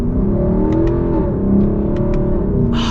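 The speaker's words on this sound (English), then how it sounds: "I could never get sick of how this engine sounds. It's just, it's like the perfect amount of just like V8 burble" A 2021 Lexus LC 500's V8 engine burbles at steady, close range, a deep continuous rumble with faint crackles and a slight swell near the end, no voices over it.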